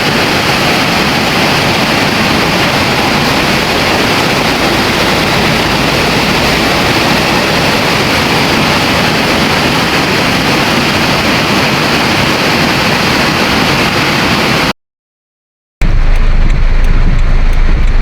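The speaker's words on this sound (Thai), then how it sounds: "ฝนถล่มภาคอีสานแล้ว" Heavy rain from a summer storm in Khon Kaen, Thailand, pouring down in a loud, constant roar that drops out briefly before resuming near the end.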